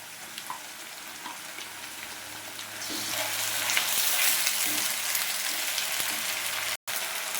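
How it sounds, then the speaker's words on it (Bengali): Ginger garlic tomato paste for ghugni hits hot oil in a pan, starting with a soft sizzle that swells into a loud, steady frying hiss, with a few light stirring clicks. "এবার আদা রসুন টমেটো পেস্টটা দেওয়া হচ্ছে।"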